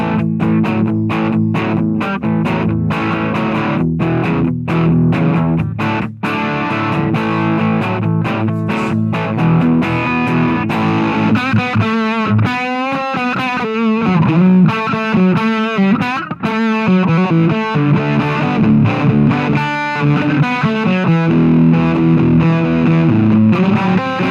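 Heavily distorted electric guitar through a distortion pedal and noise gate chugs palm-muted rhythm riffs with sharp, tight stops, then moves into faster chord runs, loud and continuous.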